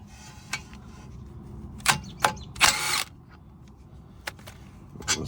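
Milwaukee power tool zapping out 18mm bolts on a 2017 Chevrolet Trax brake job: several short, sharp bursts of impact whirring, one longer burst near three seconds, close and loud against a quiet background.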